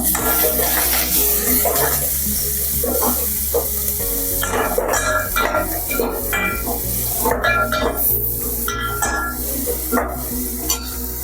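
Chopped onions are stirred into hot tempering in a pan for an Andhra-style dal, with a steady loud sizzle and repeated scraping strokes of the spoon close by.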